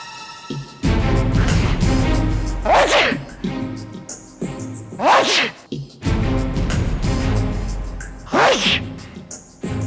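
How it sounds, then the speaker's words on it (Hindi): Three sharp, loud sneezes spaced a few seconds apart over a steady background of music, each one a quick explosive burst. "मुर्दे को छींक आए।"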